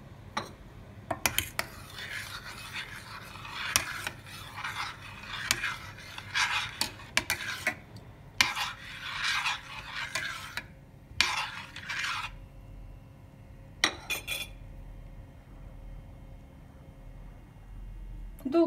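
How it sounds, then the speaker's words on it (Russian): A spoon scrapes and clinks against a pot while buckwheat porridge is stirred over a lowered flame, in bursts of scraping with short pauses between them and a low kitchen hum underneath. "и помешиваем."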